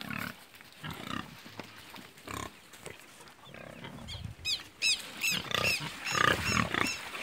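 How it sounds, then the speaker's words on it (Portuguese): Several large pigs in a big, crowded pen grunt and squeal, close and fairly loud, the calls overlapping in a steady jumble with some higher squeals toward the end. "Esse mangueirão é bem grande, cheio de porco."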